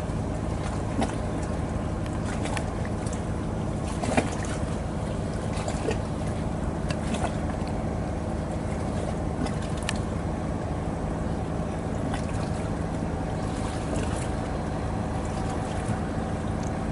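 A boat engine drones steadily on the Mekong River, a continuous low rumble with faint scattered clicks and knocks, fairly close and without talk.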